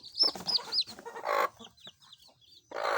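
Brooding chicks and hens: high, thin peeping chirps mixed with soft clucks, close by, in uneven bursts with short pauses between them.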